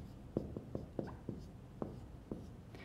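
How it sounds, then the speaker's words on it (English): Chalk or marker on a lecture-hall board during a systems biology class: roughly eight short, irregular taps and strokes, fairly faint and close, with no talking. "Let's write it here."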